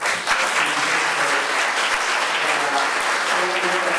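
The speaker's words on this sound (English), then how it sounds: "really give a round of applause to everybody." An audience at a panel discussion on small housing applauds, a continuous dense wash of clapping hands that stays loud and even from start to finish.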